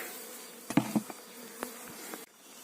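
A honeybee swarm hums and buzzes close by as it is scooped into a bucket for moving to a hive, a steady buzz under a few sharp knocks and bumps.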